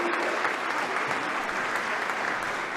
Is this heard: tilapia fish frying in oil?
no